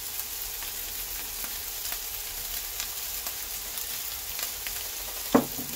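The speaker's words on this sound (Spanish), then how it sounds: "Apenas tiramos los fideos, ya le vamos a echar un chorrito de aceite de sésamo." Rice noodles stir-fry in a pan with a splash of sesame oil, giving a steady close sizzle with faint stirring ticks and one sharper clatter near the end.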